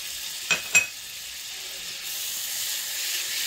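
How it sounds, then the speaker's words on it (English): Unsalted butter sizzles in a pan with chicken pieces, a soft, steady hiss that swells slightly after two brief sharp clinks near the start. "we're going to put in 1/4 cup of unsalted butter. There's the beautiful cooking sounds again"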